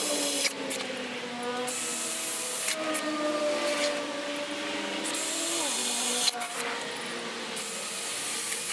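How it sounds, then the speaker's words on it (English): A power drill with a step drill bit whines steadily in bursts, its pitch shifting as it grinds through concrete, pausing briefly between runs. "then I'm gonna drill from each side with the step drill to 12mm"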